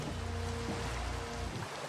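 Steady rain pours in a Minecraft game world, a dense, loud, continuous hiss that holds without a break for the whole two seconds.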